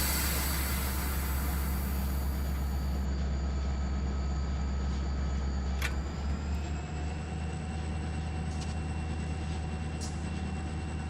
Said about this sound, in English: I hope you like listening to a 645 and Notch 8, because there's going to be plenty of it